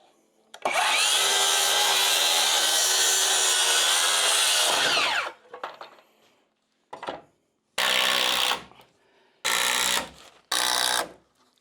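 A power saw cuts through a wooden header during house framing repair, one long loud steady cut of about four seconds, followed by several shorter bursts of sawing separated by pauses.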